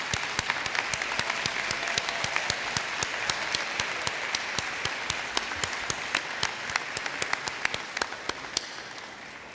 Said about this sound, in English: Could we have a big round of applause for all the Faculty of Engineering and Computing?